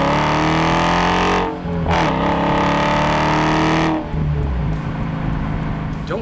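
A 2016 Dodge Challenger R/T Scat Pack with its Hemi V8 revs hard and close, the pitch climbing in sweeping runs, briefly easing off twice before surging again, loud and alone without voices.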